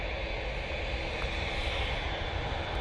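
A Ryanair airliner taking off at Manchester Airport, its engines a loud, steady broadband roar that holds unbroken throughout, with no voices.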